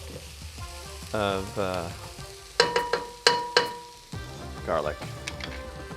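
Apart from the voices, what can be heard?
onions sautéing and sizzling in a pan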